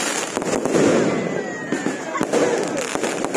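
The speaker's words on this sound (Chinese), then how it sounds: "现场烟火齐放" Fireworks burst at an outdoor Christmas tree lighting ceremony in Yuli township, where a one-storey eco-friendly tree of natural materials is lit: loud continuous crackling and popping with sharp cracks, under a crowd and a voice talking.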